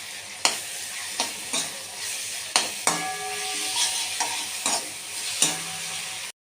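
Goat meat and potato curry fries with garlic paste in a pan, giving a steady close sizzle with repeated sharp scrapes and clinks from stirring and no talking.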